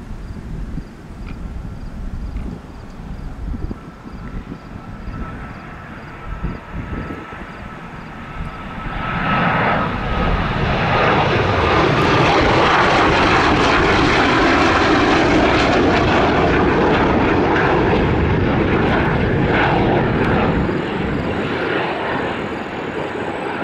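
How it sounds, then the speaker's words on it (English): A Northrop T-38 jet makes a low approach at Sioux Falls, its engine noise growing from a distant rumble into a loud, close roar that peaks and holds before easing slightly. "he's gonna be coming in low. We got a low approach."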